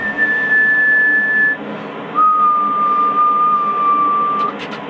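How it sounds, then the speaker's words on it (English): Someone whistles two long steady notes, the second lower, over a constant mechanical hum. "That was me whistling, right?"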